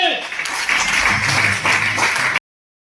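Audience applause at a business meeting, a dense wash of clapping that swells and holds for about two seconds before cutting off abruptly, with a voice speaking over it.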